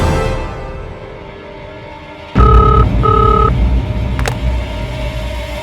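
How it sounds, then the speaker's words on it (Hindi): A short run of electronic telephone tones, two steady beeps in quick succession, over a low rumbling background, followed by a brief click. "घर पे करता हूँ फोन।"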